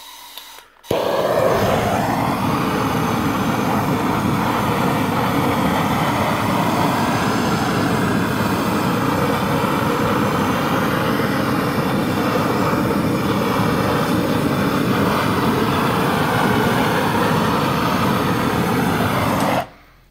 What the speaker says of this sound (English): Just using your propane torch.